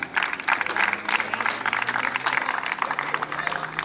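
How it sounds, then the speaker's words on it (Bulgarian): Crowd applause greets a player being introduced at the official presentation of the PFC Maritsa 1921 Plovdiv football squad for the 2017/18 season. The clapping is dense, steady and fairly loud throughout, with a faint voice beneath it. "Следващият, който заслужава аплодисменти, Юсуф Тарал, защитник."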